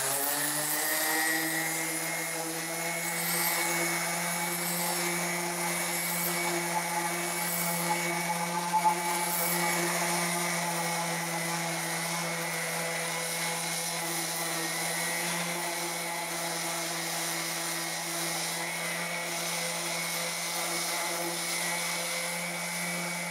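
A sander fitted with 100 grit abrasive works a concrete countertop, a steady, droning motor whine with a constant pitch that holds unbroken for over twenty seconds, close and loud, with no talking.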